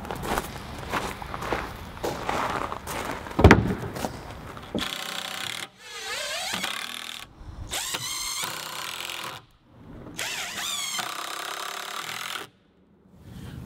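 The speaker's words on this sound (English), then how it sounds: "I'm first pre-drilling through the sides with an 1/8 inch drill bit" An electric drill with a 1/8 inch bit pre-drills through wooden planter box sides for deck screws, in several whirring bursts of rising and falling pitch broken by short pauses, with some rubbing and handling of the wood.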